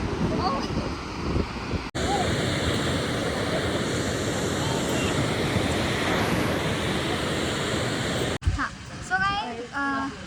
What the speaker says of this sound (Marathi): दुधागत पाणी पडतंय बघा.